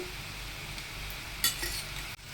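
Jaggery gavvalu dough pieces fry in hot oil with a soft, steady bubbling sizzle, a brief metallic clink of a utensil partway through, no speech.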